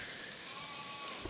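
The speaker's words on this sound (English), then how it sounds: "Got some more sheep coming in here." A sheep bleats in a drawn-out, wavering call at a moderate distance over a soft outdoor background hiss, while the flock moves in on a forage pasture.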